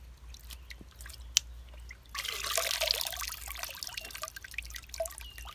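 Water splashes and trickles as a potted plant is dipped into water and water is scooped over it, with a few light drips first and then a steady, close pouring rush.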